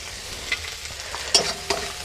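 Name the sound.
chopped tomato added to frying spices in pan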